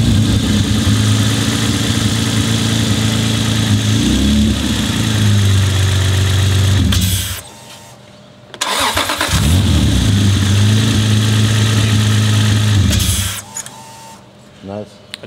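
A car engine on a Haltech ECU setup cranks and fires, settling into a loud, steady idle, then cuts off briefly before starting and idling again, with people talking nearby.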